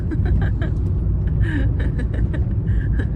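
A steady, loud engine and road rumble heard from inside a moving car, with a brief soft chuckle.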